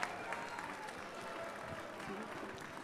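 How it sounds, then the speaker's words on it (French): An audience at an outdoor rally in Montreuil, France, applauds in a steady, dense wash of clapping with some voices mixed in, moderately loud throughout. "On les applaudit encore."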